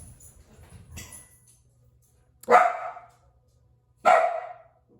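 Two sharp, loud dog barks ring out indoors a second and a half apart, following a faint murmur of voice and a soft knock.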